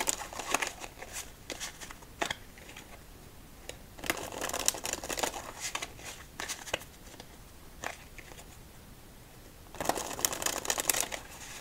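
A deck of 7-Eleven Slurpee playing cards is shuffled and handled during solitaire, bursts of crisp riffling and soft flicking snaps, close and quiet, with louder shuffles near the middle and end.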